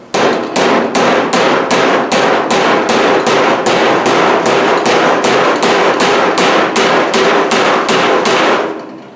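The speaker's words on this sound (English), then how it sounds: "I may just take the hammer and do it without the dolly so I can pinch it." A hammer strikes the steel door skin of a 1968 El Camino without a dolly, about twenty sharp, ringing metallic blows in a fast, even rhythm, loud and close, stopping at the end.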